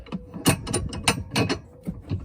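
A ratchet wrench works in short clicking bursts while tightening a tow hitch bolt on a Volkswagen Touran, with several close, crisp runs of pawl clicks spaced across the moment.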